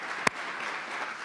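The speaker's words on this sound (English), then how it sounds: "I just want to give them a round of applause" A crowd applauds the police chief at a city address, with continuous moderate clapping and one sharp louder clap near the start.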